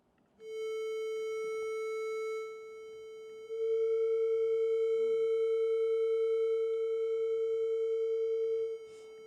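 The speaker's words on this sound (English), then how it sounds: "I've just turned on some pretty out of tune sounds." Sustained, out-of-tune electronic tones are held steadily in a quiet classroom ensemble setting. One long pure note is followed by a louder second drone that wavers slightly, with faint room noise underneath.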